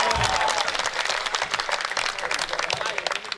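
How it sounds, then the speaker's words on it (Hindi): An audience applauding at a comedy poetry event, a burst of dense crowd clapping that swells and fades, with voices faintly under it. "तालियां कमजोर हैं आपकी।"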